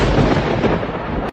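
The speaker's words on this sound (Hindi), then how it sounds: "ये बिना मौसम की गरजती हुई बारिश हमें क्या संकेत देती है?" A single loud roll of thunder from an unseasonal rainstorm, rumbling heavily and cutting off abruptly.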